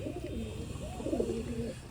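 Pigeons in a breeder's loft coo in low, rounded, overlapping calls, close and steady across the whole stretch, with faint chirps above them and no voices.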